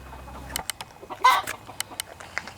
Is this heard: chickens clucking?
yes